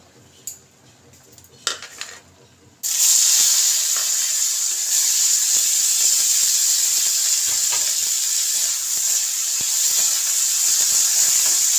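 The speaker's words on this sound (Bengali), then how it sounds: "এই তেলের মধ্যে আমি একসঙ্গে বিনস আর গাজরটাকে ভেজে নেব।" Green beans and carrots hit hot oil and break into a loud, steady sizzle of frying, following a few quiet clinks of a pan and utensils at the start. The sizzle holds strong and close to the end.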